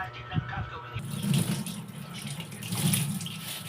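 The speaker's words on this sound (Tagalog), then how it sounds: "Ngayon no, hugasan natin yan." Water runs steadily from a tap as a toupee is rinsed, a close continuous splashing stream that starts abruptly after a moment of quieter background.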